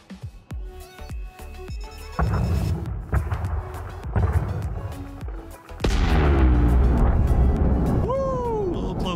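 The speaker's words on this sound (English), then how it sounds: "It's just so much fun watching these rocks explode." An asteroid detonation explosion in the space game Elite Dangerous, heavy booming blasts and rumbling bursts layered with electronic tones, growing louder into a sustained roar, alongside a descending synthetic sweep and some speech.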